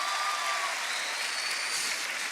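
Audience applause at a live political event in Bhopal, a dense hiss of many hands clapping at once, steady and moderately distant, alone without talk.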